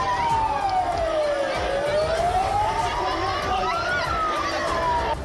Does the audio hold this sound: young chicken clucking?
no